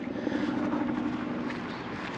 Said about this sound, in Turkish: bir helikopter dönüyor